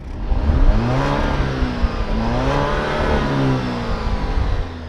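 A 2020 Alfa Romeo Stelvio Ti Nero Edizione engine rumbles and revs from outside the vehicle, rising and falling in pitch, close and loud with no talking.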